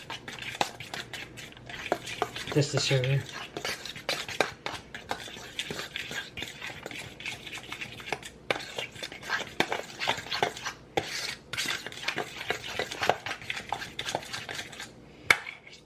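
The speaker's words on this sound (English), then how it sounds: "Just gonna mix it with the fork." A fork clinks and scrapes against a bowl while sugar is stirred into cream cheese, with quick repeated metallic taps and brief soft speech.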